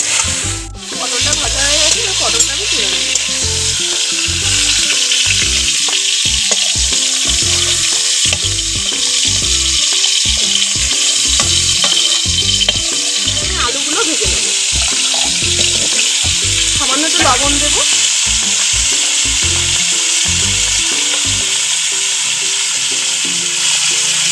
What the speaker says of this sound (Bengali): পটলটা খুব অল্প অল্প জালে ভাজতে হবে